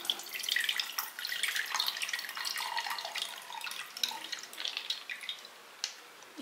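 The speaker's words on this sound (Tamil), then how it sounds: "இப்போ தண்ணி இருத்துட்டு வச்சுக்கலாம்." Water pours and trickles off soaked maize seeds as they are drained, a continuous splashing, dripping stream close by, fading slightly toward the end with no talk.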